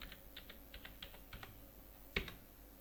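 Typing on a computer keyboard while entering payment details in Tally accounting software: a quiet run of light, irregular key clicks, close, ending in one sharper keystroke, with no talk.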